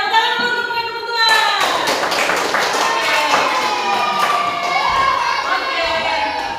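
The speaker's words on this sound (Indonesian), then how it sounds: "tepuk tangan dulu untuk kelompok 2" A school class claps for a group of students about to present, with a burst of hand clapping and children's voices over classroom chatter after a brief spoken lead-in.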